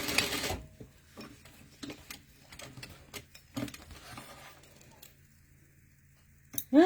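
A sewing machine fitted with a thin presser foot works on a bag with metal hardware, giving short, close mechanical stitching bursts and clicks separated by pauses, with a little talk.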